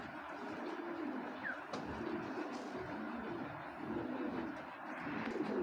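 Racer pigeons at a breeding farm coo steadily in soft overlapping calls, close by, with a continuous low murmur of several birds and no talk.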